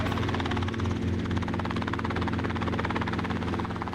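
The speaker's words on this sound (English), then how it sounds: "They have a freaking helicopter." A helicopter roars steadily throughout, its rotor beating in a fast, dense thump over a constant engine whine, loud and close.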